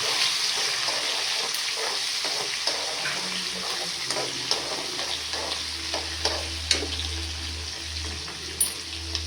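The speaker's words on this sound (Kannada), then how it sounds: "ಕರ್ಬೇವಿನ ಸೊಪ್ಪು ಹಾಕ್ತಾಯಿದ್ದೀನಿ. ಸ್ವಲ್ಪ ಕೆಂಪುಗಾಗೋ ತನಕ ಫ್ರೈ ಮಾಡೋಣ." Curry leaves fry in a pan until slightly reddish, a continuous close sizzle with light stirring scrapes and a low steady hum underneath.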